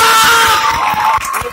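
A crowd at an outdoor political speech in Begusarai, Bihar, cheers and shouts with scattered claps, a loud, dense burst of voices up close.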